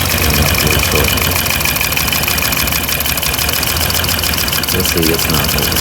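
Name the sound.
2010 Dodge Ram 5.7 Hemi V8 engine rough idle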